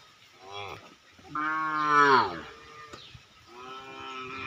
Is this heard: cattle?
yes